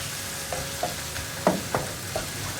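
Onion and spice ingredients fry for a potato curry while a spoon stirs them in the pan, several distinct scraping strokes over a soft continuous sizzle, close and clear with no talking.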